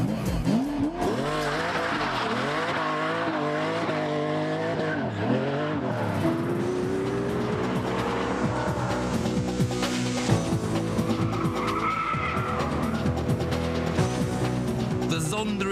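A Pagani Zonda S supercar, a version of the C12 from 1999, drives hard with a loud engine rising and falling through the revs and a squeal of tyres, heard continuously throughout.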